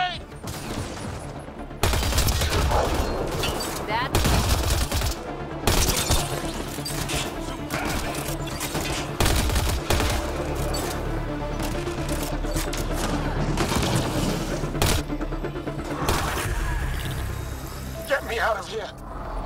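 A grenade blast and bursts of gunfire in the sci-fi shooter Mass Effect: Andromeda, with repeated loud crashes and rapid volleys across the scene, a voice speaking over the combat.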